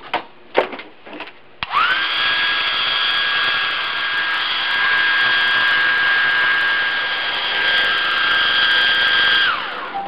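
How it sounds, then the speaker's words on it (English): Hair dryer blowing on flux coating a sterling silver and turquoise ring, switched on after a few handling clicks and running loud and steady with a high whine for about eight seconds before cutting off. "we'll go ahead and dry this with our hair dryer"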